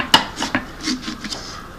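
A knife cuts into a pumpkin being carved for a Halloween spider design, giving a few close scraping and clicking strokes, one sharp tap at the start, with no speech.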